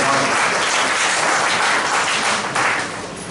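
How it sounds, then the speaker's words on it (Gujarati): Audience at a teacher training event breaking into loud applause, a dense sustained roar of many clapping hands that tapers slightly toward the end. "જોરદાર તાળીઓના ગગડાટ સાથે"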